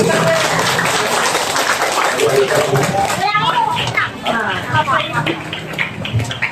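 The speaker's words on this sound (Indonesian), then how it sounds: "Tepuk tangan buat" A young audience claps at an Indonesian gathering, a steady wash of applause that thins after a few seconds into scattered claps mixed with children's chatter and voices.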